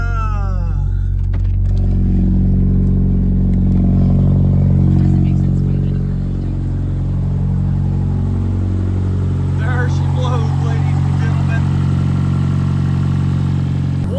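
A Chevy Cruze 1.8 engine with upgraded ignition coils revs while driving, its steady drone rising and falling in pitch, with a voice talking over the engine noise.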